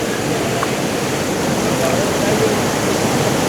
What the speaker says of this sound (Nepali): क्या दामी झर्ना